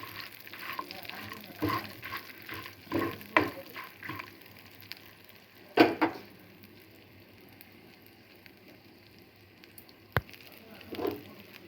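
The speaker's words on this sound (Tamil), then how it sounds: "நல்லா வறுத்துக்கலாம்" Drumstick leaves and garlic frying in a pan, a steady soft sizzle with irregular louder stirring scrapes and clatters, close and alone with no talk.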